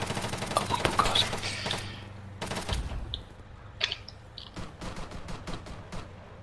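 Gunfire rings out in a video game, bursts of sharp shots and rapid automatic fire early on, then scattered single cracks at a distance, loud at first and fading to sporadic reports with no talk.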